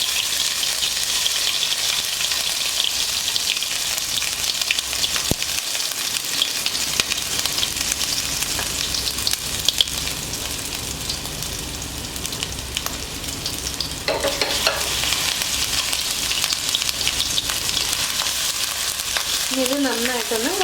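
Crushed ginger, garlic and black pepper fry in hot coconut oil for a lamb liver roast, a steady loud sizzle throughout with brief spatters and stirring sounds near the end, no voices.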